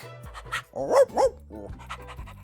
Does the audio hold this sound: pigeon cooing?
no